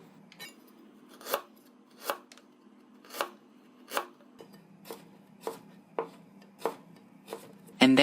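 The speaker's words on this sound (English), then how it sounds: "First of all, you need to julienne the ginger." A knife julienning ginger on a cutting board, about a dozen crisp evenly spaced chops in a steady rhythm, close and clear in a quiet kitchen.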